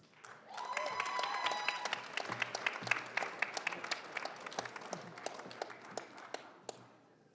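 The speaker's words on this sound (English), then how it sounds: "Big round of applause for them as they exit stage." Graduation audience applause for a July 2023 HCA cohort exiting the stage, a sustained round of moderately distant clapping that tapers into scattered claps, with faint cheering.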